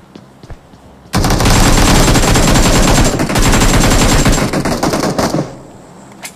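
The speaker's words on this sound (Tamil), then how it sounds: "சுட்டேன் கிரி லாங்ல இருந்து ஒருத்தன் கவர் தரான்" Gunfire in the video game PUBG: a loud, sustained burst of rapid automatic shots lasting several seconds, breaking into a few scattered shots before it trails off.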